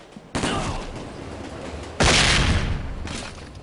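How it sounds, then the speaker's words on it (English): In SWAT 4, suspects open fire indoors, producing loud, dense bursts of gunfire that come in two or three heavy clusters, each one fading out before the next. "Be advised, the suspects are erratic and shooting each other."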